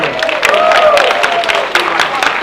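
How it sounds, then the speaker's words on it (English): Studio audience at a Price Is Right holiday edition applauds a newly called contestant, loud close clapping mixed with cheers and a few shouted voices. "Haley's gonna get the applause"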